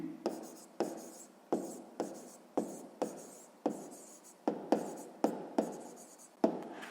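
A pen writing down a maths answer on paper, a series of about a dozen quick, evenly spaced scratchy strokes, close and quiet with no voices.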